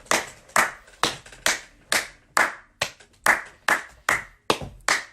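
Applause for young performers at a Haitian event: about a dozen sharp, evenly spaced hand claps over five seconds, fairly close and loud, with no talking.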